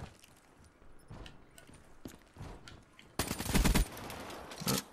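A video game gun fires a dense, loud burst of rapid shots in the final two seconds, preceded by quieter scattered clicks and thuds, with no talking.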